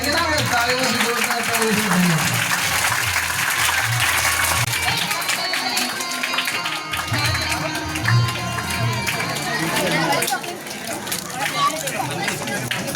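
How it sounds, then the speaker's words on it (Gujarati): Applause from a crowd welcoming new members at a village school enrollment and girls' education event, steady and loud clapping lasting throughout, with voices mixed in. "સભ્યો અને નવા સભ્યોને તાળીઓથી તો વધારી"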